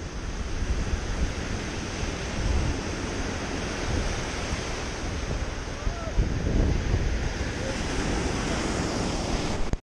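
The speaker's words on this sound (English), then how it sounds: "Big old waves." Big ocean waves breaking on a beach, a loud, steady roar of surf mixed with wind buffeting the microphone, continuous throughout with no voices.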